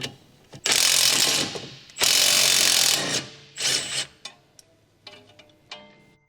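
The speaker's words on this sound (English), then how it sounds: "Electric impact wrench." An electric impact wrench with a 17mm short socket removes a fixing bolt on the rear camber arm of a 2021 Honda Civic, loud, close bursts of rattling hammering, two long runs then shorter ones fading into quieter clicks.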